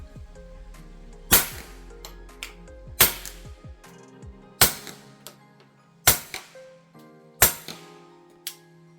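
Five sharp, fairly quiet shots from an integrally suppressed Ruger Mark I pistol with a ported barrel firing Mini-Mag rounds, spaced about a second and a half apart, each followed by a short metallic clatter.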